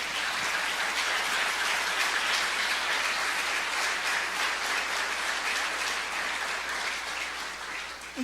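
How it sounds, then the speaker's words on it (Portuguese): A church congregation applauds during a sermon, a sustained wash of many hands clapping at moderate volume, steady throughout and tapering slightly near the end. "Vamos aplaudir ao Senhor por isso?"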